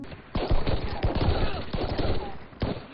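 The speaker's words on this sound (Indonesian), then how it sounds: "baku tembak antara keduanya pun tak terhindarkan" Machine-gun bursts and rapid gunshots crackle through a movie shootout between robbers and police, with dense repeated volleys close and loud under a narrator's voice.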